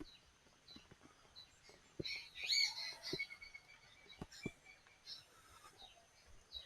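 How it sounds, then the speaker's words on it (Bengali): Birds call faintly outdoors on a cloudy hillside road at Gorubathan, with thin scattered chirps and a brief louder trill amid soft clicks and rustling. "চারিদিকে পাখি ডাকছে"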